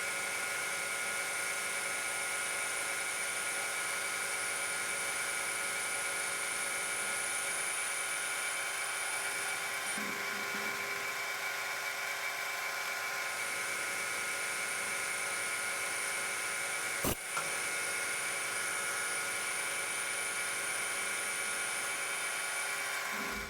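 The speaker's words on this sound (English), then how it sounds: "And I've sped the lathe up." A metal lathe spins up to speed while cutting a Cummins Horton fan pulley, giving a steady high-pitched whine and hum that holds throughout, with one brief sharp click partway through.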